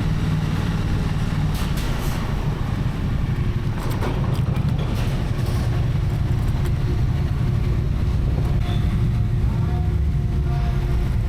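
A ferry's engine rumbles steadily while vehicles board late at night, a constant deep drone with some clattering and mechanical knocks over it.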